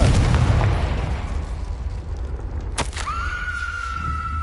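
A Confringo fire spell in the Hogwarts Legacy video game detonates in a sharp, loud burst, followed by a sustained high ringing tone over a low rumbling background.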